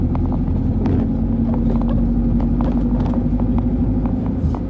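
An empty truck drives home along a narrow road, its steady engine drone and road rumble continuous and close throughout with faint rattles on top.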